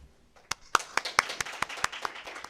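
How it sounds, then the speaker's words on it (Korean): Sparse, uneven handclaps from an audience at an international development cooperation forum, roughly a dozen sharp claps spread over a couple of seconds, as if applause is only beginning. "큰 박수로 맞이해 주시면 감사하겠습니다."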